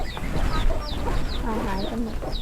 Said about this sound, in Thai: นี่ไก่ทั้งหมดเลย ดูแบบว่าเยอะมากเลยนะ